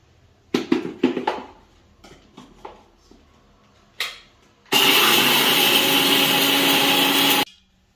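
A few short clicks and bumps, then a mixer grinder grinding roasted spices roars on loudly and runs steadily for about three seconds before stopping abruptly.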